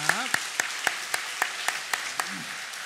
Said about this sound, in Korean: 우리 박수로 함께 응원하도록 하겠습니다.